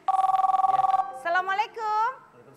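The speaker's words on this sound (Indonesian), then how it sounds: "Kayaknya ada telepon ya di ujung sana ya." A telephone rings on a studio set during a live sahur broadcast, a rapid trilling electronic bell for about a second, then a voice speaks.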